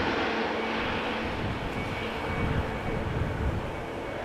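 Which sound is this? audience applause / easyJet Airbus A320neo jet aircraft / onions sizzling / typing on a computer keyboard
easyJet Airbus A320neo jet aircraft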